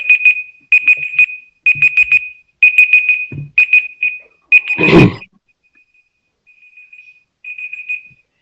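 An electronic alarm beeps in loud repeated bursts of rapid high tones, pausing briefly between groups, with a clattering knock in the middle and a softer final burst as it is silenced.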